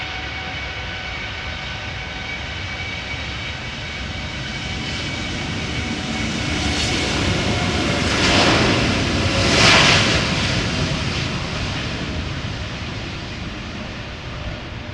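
A six-year-old Air Europa Boeing 787-8 Dreamliner departs Amsterdam Schiphol in gusty crosswind, its broad jet roar building steadily and peaking close by at mid-point before easing back into a sustained rumble.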